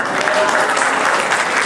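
A short, steady burst of audience applause fills a conference hall, many hands clapping evenly and fairly close for under two seconds.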